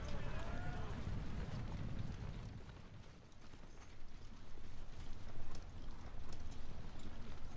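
Horse hooves clatter in a steady galloping rush as cavalry riders charge across a battlefield in the strategy game Battle for Middle-earth 2, with a voice calling out early and mechanical clanking mixed into the drumming hoofbeats.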